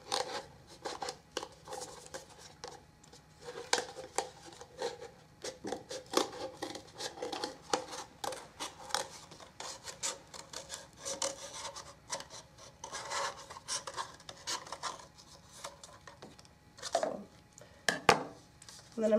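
Scissors or a blade cutting straight through material to make a tight hole for a homemade amplifier, heard as close, irregular scraping and rasping snips with short pauses between strokes.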